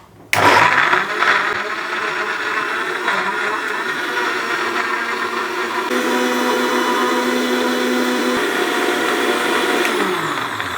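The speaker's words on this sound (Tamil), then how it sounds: "நான் இப்போ எக்ஸாம்பிளுக்கு சட்னி அரைச்சி காட்டுறேன் பாருங்கள்" A mixer grinder switches on abruptly and whirs loudly and steadily at close range while grinding chutney, its tone shifting slightly as it keeps blending.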